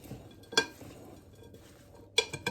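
Pakoda batter with ginger paste being mixed in a bowl: faint, soft stirring with two sharp clinks of a utensil against the bowl rim, near and alone.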